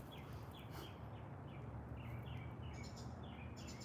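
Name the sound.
birds singing in a garden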